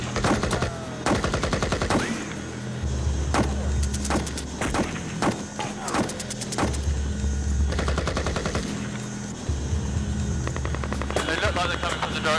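Gunfire cracks outside a door while people are loaded onto a Chinook helicopter: a series of sharp close shots and bursts over a steady rotor drone, with voices in the background.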